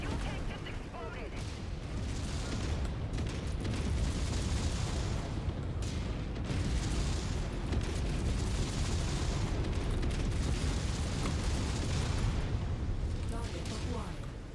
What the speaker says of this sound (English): The fuel tank just exploded.